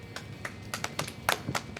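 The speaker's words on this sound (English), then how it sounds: "Why are you clapping?" Several quick hand claps ring out in an uneven rhythm, fairly faint against a low background hum.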